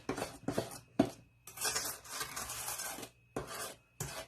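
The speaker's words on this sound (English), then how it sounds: "So I'm just going to, by spoon, give it a mix." A spoon mixes light, fluffy cookie icing by hand in a bowl, with repeated scraping and rubbing strokes of uneven length that come through clearly and close up, with no voices.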